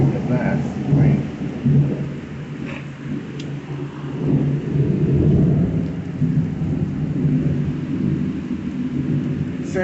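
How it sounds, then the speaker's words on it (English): A thunderstorm during a tornado watch, with rolling low thunder rumbles and a steady wash of rain throughout, loud and continuous with no clear voices. "the brighter flash of the lightning, the closer the sound of the thunderstorm is"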